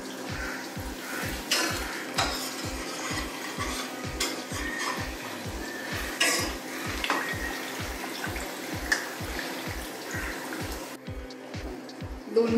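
Vada pav frying in hot oil and being turned with a slotted spoon, a steady soft sizzle under a regular, fast ticking pulse, with a few light scraping clinks of the spoon.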